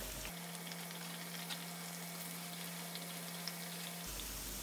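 Khari puff pastry biscuits frying on one side in a pan give off a faint, continuous crackling sizzle, soft and even throughout with a low steady hum underneath.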